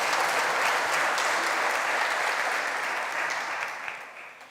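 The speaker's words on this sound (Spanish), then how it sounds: "Vamos a darnos un fuerte aplauso de bienvenida a todos los que nos están viendo también." A congregation gives a hearty welcoming round of applause during a church Bible study, broad continuous clapping that stays strong before tapering off toward the end, with no voices over it.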